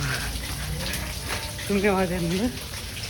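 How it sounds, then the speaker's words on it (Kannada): Steady rain hisses down in misty hill country, with water pooling and running on the ground, as someone speaks briefly over the wash of falling water. "ನೋಡ್ರಿ ಮಳೆ ಇನ್ನೂ ಬಿಡೋವಲ್ಲ"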